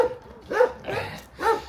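A dog barks roughly and close by in three loud, spaced outbursts with a whining edge, heard outdoors on a road trip from Bulgaria through Vidin to Budapest.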